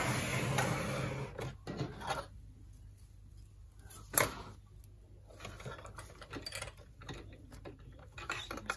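A sewing machine stitches layers of sequin fabric for a zippered coin purse, running in short mechanical bursts with pauses and a sharp click partway through, fairly quiet and close.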